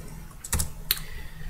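A few crisp keystrokes tapped out on a computer keyboard while entering a line of code in Notepad, two brief clicks standing out close and alone against a quiet room.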